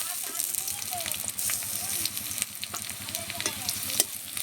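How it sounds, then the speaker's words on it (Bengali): Chopped onion frying with ginger-garlic paste and a bay leaf in a pan, sizzling steadily while a spatula scrapes and stirs in repeated strokes, with faint background voice. "আদা রসুনটা দিয়ে তাদের সাথে খুব ভালোভাবে একটু ভেজে নিয়েছি"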